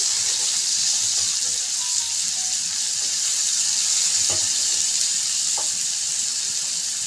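Onion hits hot oil in a pan alongside garlic, making a loud, continuous sizzle with a bright hiss and a few soft clinks from stirring, and nobody talking.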